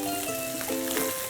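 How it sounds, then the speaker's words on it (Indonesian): Mushrooms frying one at a time in hot oil, a steady, close sizzle with brief bubbling and stirring, no talk. "Oke, sekarang kita goreng satu persatu aja supaya dia crispy-nya sempurna."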